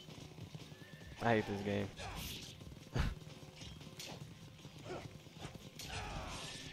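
Horse hooves clip-clopping and a whinny from the video game Ninja Gaiden Sigma, in the Hayabusa Ninja Village stage, heard amid combat effects with someone talking over it.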